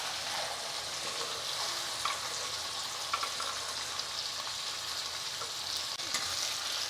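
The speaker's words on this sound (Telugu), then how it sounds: "ఇదిగోండి ఉల్లిపాయ వేసేస్తున్నా" Chopped onions sizzle and fry steadily in a hot pan while chicken fry is being made, a dense continuous crackle with a few sharper pops, close and alone without talk.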